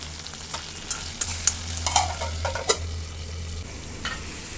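Ten garlic cloves fry in two spoons of oil for a bun dosa, with a soft, steady sizzle and a few sharp stirring clinks and scrapes close by.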